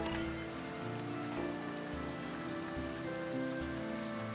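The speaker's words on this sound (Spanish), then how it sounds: "Esta lluvia nos frena un poquito en nuestros planes" Steady rain pours in the building game Foundation, a dense continuous hiss with a low rumbling undertone throughout, no voices present.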